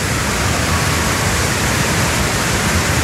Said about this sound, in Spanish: la potencia de la cascada, ahorita está en su máximo esplendor